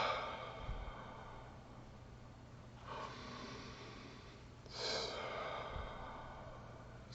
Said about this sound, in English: I want you to start to do the hum-sa breath with me